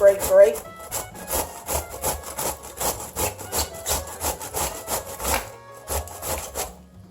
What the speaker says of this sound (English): this is the side of the grater that has the larger holes. And I'm going to grate.